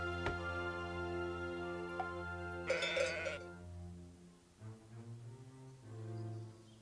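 Sheep bleat on a farm in the video game Let Them Trade, with several drawn-out, wavering cries in sequence over a steady droning background, fairly loud and close with no talk.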